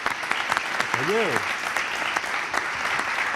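Audience applause at a live interview event, a steady patter of clapping with a short spoken exclamation over it.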